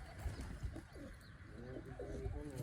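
Pigeons coo in low, rolling calls at close range, with brief chirps mixed in over steady outdoor background noise; no wingbeats stand out clearly.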